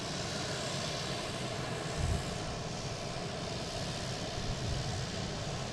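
An Icelandair airliner passes at Boston Logan International Airport, a fairly faint, distant engine rumble and roar holding steady, with a few brief low swells.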